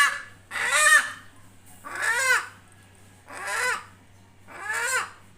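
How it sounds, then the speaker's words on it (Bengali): A rooster at a farm being lifted onto a weighing scale squawks four times in loud, harsh, honking bursts spaced about a second apart, close by over a faint low hum. "এখন আমি মুরগিটাকে উঠিয়ে নেব।"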